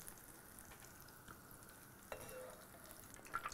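Eggplant slices fry in hot oil, giving a faint, steady sizzle with light crackling and a brief sharper spit partway through. It sounds quiet and close, with no talking.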